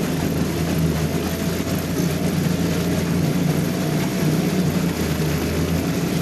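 A Yamaha Suzuki 2.5hp outboard engine running at full throttle drones loudly and steadily throughout, a dense buzzing motor roar with no breaks and no talk.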